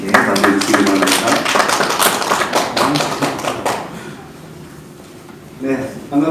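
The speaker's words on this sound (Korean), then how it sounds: "큰 박수와 함께 맞이해주시기 바랍니다." An audience at a Korean social-enterprise briefing session claps to welcome a speaker, a dense burst of applause for about four seconds that then dies away, with a voice briefly near the end.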